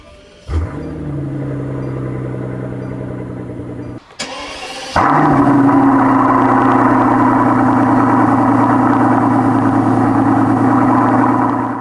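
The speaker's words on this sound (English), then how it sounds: "every morning, if you own this car, you will have an amazing cold start experience" A Mercedes S65 AMG V12 cranks and fires on a cold start, cuts out briefly, then restarts with a sharp flare into a loud, steady, deep idle that holds to the end.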